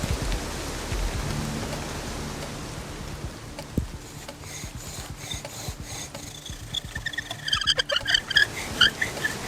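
Rain falling in outdoor wilderness, a rough, steady patter of drops that turns into louder, irregular dripping and tapping close by toward the end.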